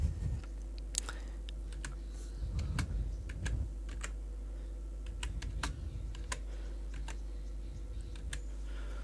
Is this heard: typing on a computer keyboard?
yes